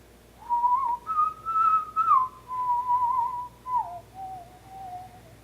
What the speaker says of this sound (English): The ghost sat on the old dead limb and whistled its tune